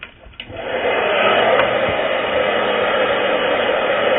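A hair dryer blows steadily and loudly while hair is round-brushed section by section, a continuous rushing airflow after a brief quieter start.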